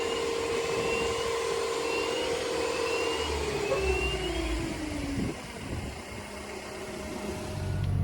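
A farm grain cleaner machine drones steadily and fairly loud throughout, its hum shifting slightly in pitch and easing near the end.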